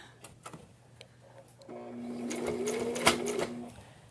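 Sewing machine stitching folded fabric for a face mask, a steady mechanical whir running for a couple of seconds after a few soft handling taps, fairly quiet and close.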